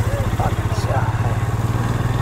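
A motorcycle engine idles nearby with a steady, loud, pulsing low throb, while people talk over it.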